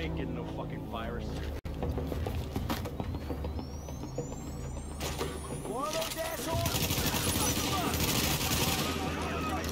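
Sustained automatic gunfire and scattered shots from Tom Clancy's The Division crackle through a busy battle mix, with engine-like rumble and voices beneath.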